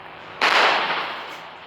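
A rocket firework goes off with a single sharp whooshing burst that starts abruptly, then fades over about a second, close by with no talk.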